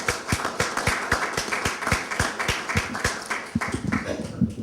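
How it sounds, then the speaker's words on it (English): A small audience claps for debate candidates, a sparse round of individual claps in an irregular rhythm, fairly close and distinct rather than a dense roar, fading toward the end. "Please join me in a round of applause for our candidates."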